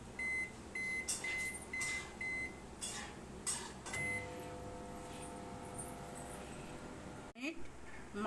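A microwave oven baking a homemade chicken pizza gives a series of short, evenly spaced electronic beeps, about five in quick succession, followed by a steady low hum, with some kitchen clatter and background talk around it.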